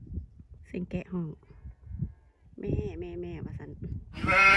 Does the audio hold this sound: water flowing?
no